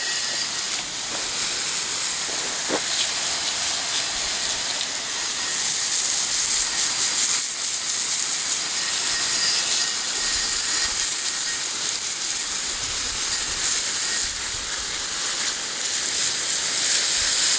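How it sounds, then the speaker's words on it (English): Steady, loud hissing spray of a pressure washer cleaning an old post drill press, continuous for the whole stretch with little variation and no talking. "Looks like I'll have to be pressure washing this guy."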